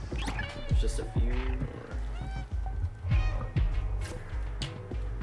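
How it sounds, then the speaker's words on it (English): A cat in the video game Stray meows and yowls repeatedly in loud, insistent bursts, while people talk over it. "The cat is just yelling."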